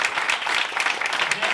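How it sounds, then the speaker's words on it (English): Dense, even applause from an audience at a press conference for the live-action Aladdin remake. It is steady and fairly close and fills the short moment without letting up. "Let's give them a round of applause."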